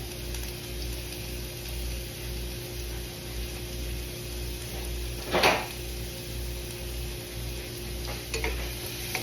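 Ginger and garlic frying in a pan for a pasta dish, a steady close sizzle with a sharp metallic scrape of stirring midway and a couple of lighter clinks near the end.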